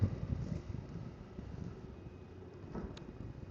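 Wind rushes through a forest in a low, steady roar with gusty buffeting against the microphone, fairly faint and with no voices.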